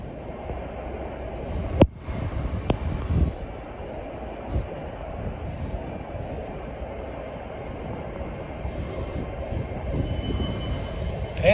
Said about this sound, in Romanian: Tren sosind de la Norwich.